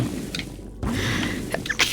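A young woman sneezes once during a cooperative video game session, a short sharp burst close to the microphone with faint room noise before and after.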